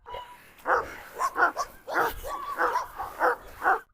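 A Cane Corso lets out a run of loud, close barks and yips in uneven bursts while attacking a Karabash, each sharp call separated by brief pauses.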